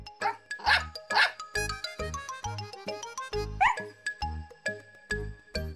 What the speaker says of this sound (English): Snuffy barked happily